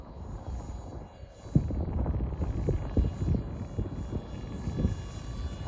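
A 50mm electric ducted fan F-16 RC jet runs at half throttle with a steady, fairly loud whirring roar, rising slightly after the first second and holding even, with gusting wind in the background.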